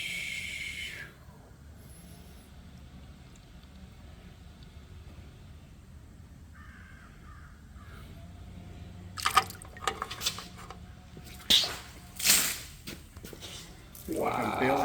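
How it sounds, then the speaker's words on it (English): Water is bailed out of a flooded boat in a garage shop. After a long quiet stretch it comes as uneven splashes and pours near the end, some of them loud and close. "I'm bailing out a ship."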